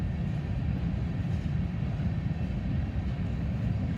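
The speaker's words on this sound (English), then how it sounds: "unit train." A unit train of mostly identical freight cars rolling past at Oak Harbor, a loud continuous low rumble of wheels and cars close by, steady throughout.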